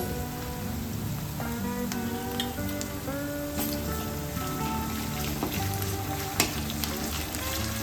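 Hot oil spatters and sizzles steadily while potato tomato curry fries with ginger garlic paste, a dense continuous crackle with scattered sharper pops, close and fairly loud with no talking.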